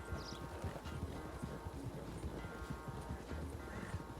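Horse hooves clip-clop in a steady walking rhythm on a road in the video game GTA 6, close and clear, with soft game ambience beneath.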